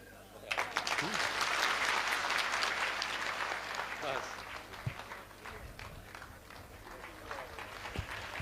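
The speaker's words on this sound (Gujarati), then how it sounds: "જોરદાર તાળીઓથી આપણે સાહેબ શ્રીનું" An audience at a felicitation ceremony breaks into loud, sustained clapping that swells and then gradually thins out into scattered claps, while people talk underneath.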